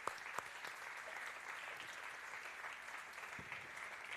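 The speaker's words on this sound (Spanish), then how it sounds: "Un aplauso al Señor." A church congregation claps for the Lord during a Spanish-language sermon, a moderate, even wash of applause with a few sharper individual claps standing out, fairly quiet and continuous throughout.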